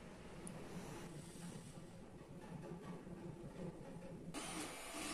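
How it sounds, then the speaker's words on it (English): A steady mechanical whir and rattle of a 3D printer running nearby, continuous throughout, with a brighter hiss rising near the end. "3D printer running in the background."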